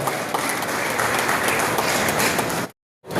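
Loud, steady applause from a crowd honouring a guest at a mango growers' farmers' conference in Poynad, dense clapping filling the space before cutting off abruptly near the end.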